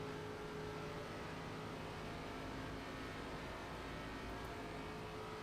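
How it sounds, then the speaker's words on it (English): ARCA race car easing off the throttle through a corner during a race, a steady, distant engine drone with a hum and broad crowd-like wash, no sharp revs, continuous and fairly faint. "You can hear him kind of letting off the throttle, just kind of riding through the corner."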